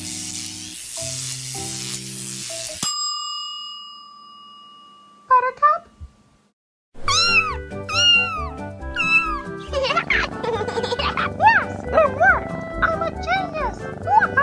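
A comic-dub cat, a girl's mind swapped into a pet named Ginger, meows in a voiced imitation with bright rising cries. Music plays first, then a pause, then repeated meows mixed with other voices and sound effects.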